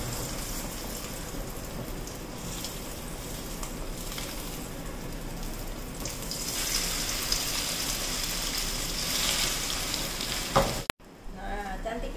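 Chicken nuggets frying in hot oil in a pan, a steady dense sizzle that swells louder partway through and cuts off abruptly near the end.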